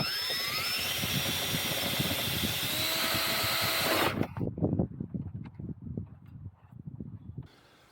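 A power tool drives bolts home during an assembly job, a steady high whine for about four seconds, then a string of sharp, rattling impact bursts that stutter and fade before stopping.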